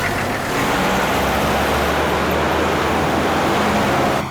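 A car pulls away, its engine and road rush swelling after a brief pause and then holding loud and close in a steady, broadband drone. No one speaks.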